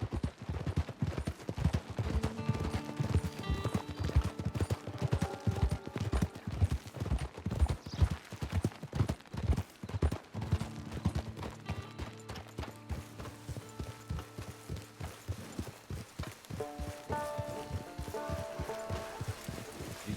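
Horse hooves clop at a steady rhythmic gait in the Red Dead Online video game, close and continuous over the whole stretch, with a soft musical score running beneath.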